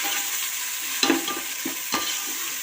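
Ginger paste sizzles steadily in a hot pan, a constant frying hiss broken by a few scraping strokes of a spatula stirring through it, with no voices.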